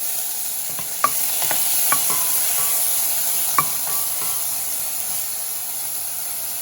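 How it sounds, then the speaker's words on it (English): Steady frying sizzle of vegetables with a few sharp clacks of a utensil scraping and stirring through them in a pot, close by, with no voices. "I'm going to stir up the vegetables. You can hear them sizzle"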